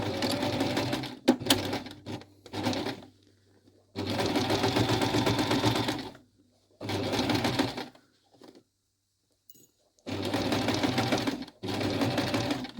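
A sewing machine stitches back tacks to reinforce a clipped underarm gusset seam on a coat, running in four or five steady whirring bursts separated by short pauses, close and clear with no talk.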